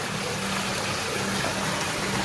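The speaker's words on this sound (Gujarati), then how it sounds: "180 ફૂટથીઓને પાણી આવ્યું જુઓ" Water pouring steadily from a 180-foot borewell on a farm, a continuous broadband rush with a low hum beneath, moderately loud and close, with no talking.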